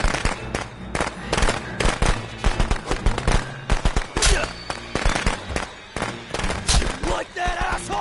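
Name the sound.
firecrackers going off in Friday the 13th video game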